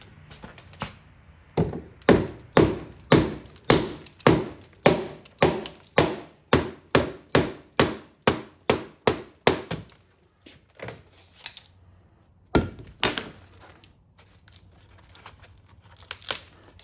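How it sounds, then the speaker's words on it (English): Hammer blows during restoration of an arcade cabinet, a steady run of about twenty sharp, loud strikes, then a pause and a few scattered knocks and clatters. "Okay, need a hammer."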